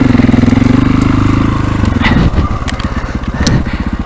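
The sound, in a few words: 525 dirt bike motorcycle engine on a trail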